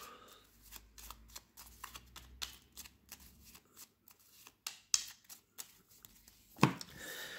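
Playing cards being shuffled in quick riffling bursts for the board game Next Station London, a soft rapid fluttering repeated several times, ending in a sharper snap of cards.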